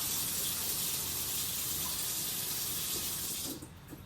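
Tap water runs steadily over a head of organic cauliflower in a sink, a constant bright splashing gush that fills the clip, then thins as the flow is moved or cut near the end.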